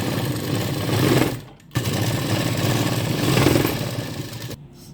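A sewing machine running steadily as it double-stitches lace onto a sleeve, a close, continuous mechanical whir that stops briefly twice, with no talking.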